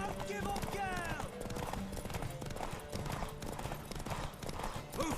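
Horse hooves clip-clop at a gallop in The Witcher 3 during a horse race, a steady drumming rhythm mixed under game music, a brief neigh and an excited voice calling out.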